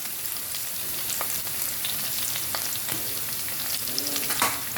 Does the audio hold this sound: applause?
no